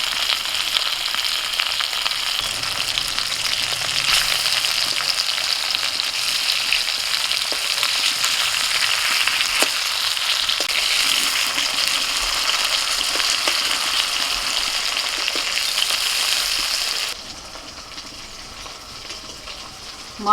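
Hilsa fish frying in a pan crackles with a loud, continuous sizzle and scattered pops, then drops suddenly to a quieter hiss near the end.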